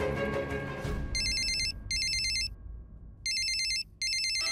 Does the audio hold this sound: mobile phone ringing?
yes